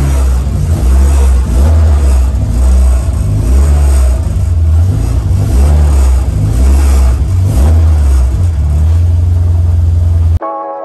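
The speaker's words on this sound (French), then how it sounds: "Et le moteur, il est enfin en route." A car engine, restarted after running out of fuel in the lines, runs with a loud, close, deep rumble that rises and falls in repeated revs before cutting off abruptly at the end.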